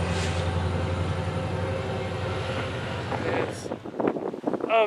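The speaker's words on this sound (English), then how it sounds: "Okay, here's train 784 arriving at Moorpark" Amtrak train 784 arriving at Moorpark station: a steady low rumble and hum of the approaching train under wind noise, fading toward the end as people start talking.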